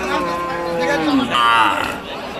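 Desi cows moo at a busy Nilphamari cattle market, one drawn-out low call sliding down followed by another higher moo, close and clear over background crowd noise.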